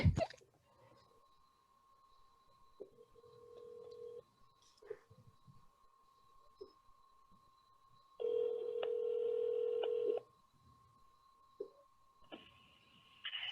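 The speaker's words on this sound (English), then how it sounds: "So I have her on my phone, so I'm going to call her." A phone call to a congressional office: soft key tones, then a long ringback tone, and another tone burst near the end over a quiet steady hum, with no talk.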